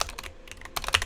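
Quick bursts of typing on a computer keyboard, close and crisp, a few rapid keystrokes, a short pause, then another cluster of clicks.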